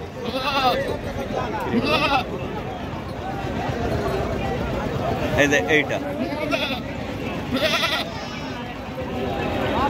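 Goats bleating at the Baneshwar goat market, several short calls rising over a busy crowd with people talking close by throughout.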